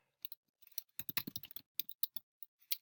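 Close computer keyboard typing, irregular bursts of crisp key clicks with brief pauses, no talking.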